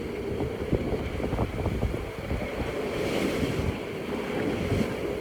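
Steady wind gusting across open water aboard a 31-foot ketch sailing off Southern California, with waves washing and surging close by; no voices, just a continuous rushing roar.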